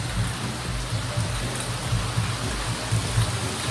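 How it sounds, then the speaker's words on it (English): Steady, dense rain from Super Typhoon Rai on Siargao Island pours down in a constant hiss, with soft low thuds of drops hitting a surface close by. "The rain continues. It continues to pour in."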